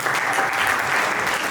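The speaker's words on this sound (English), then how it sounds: "Please, can you give her another round of applause?" A short burst of audience applause at a panel session, steady and fairly loud, with nothing else over it.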